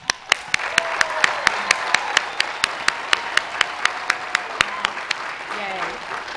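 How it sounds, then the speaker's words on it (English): Commencement applause for a college of the arts: a crowd claps steadily under cheering voices, with one nearby clapper's sharp, evenly spaced claps standing out in a fast, regular rhythm. "So now, let's applaud and celebrate you."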